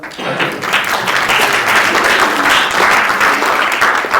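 An audience at an interview event breaks into steady applause, a dense sustained wash of many hands clapping that fills the room with little talk.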